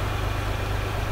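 A tractor engine of about 25 horsepower idles steadily nearby, a low, even rumble with a constant pulsing throb and no change in speed.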